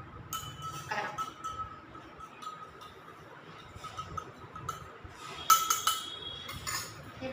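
A spoon clinks against a glass jar while soda is being made, several light, sparse taps and rattles over quiet background, with a brighter chime near the end.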